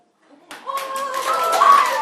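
Children clap together in a classroom, starting after a short pause and building into a quick burst of claps, with a voice rising over it.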